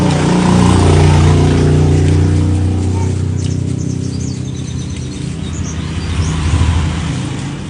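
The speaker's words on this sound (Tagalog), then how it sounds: "Saba naman sa mga motor dito eh." Loud motorcycle engines rumble and rev nearby, swelling and fading as they pass, with faint birdsong in the background.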